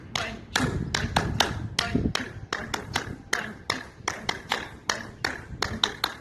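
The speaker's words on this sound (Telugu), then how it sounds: "పతంజలి మహర్షి వారికి కృతజ్ఞతగా క్లాప్స్ కొడదాం" A yoga class clapping together in thanks, a run of sharp, fairly close hand claps in an uneven rhythm, loud and without talk.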